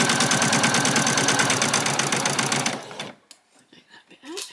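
A sewing machine stitches an apron in a fast, loud, even rhythmic chatter up close, then stops abruptly. Faint handling clicks and shuffling follow.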